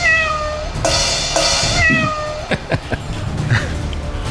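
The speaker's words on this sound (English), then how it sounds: "Uorag, you're the prettiest kitty" A cat meows loudly several times in a row, drawn-out cries with a rising then falling pitch, followed by some brief clattering and rustling nearby.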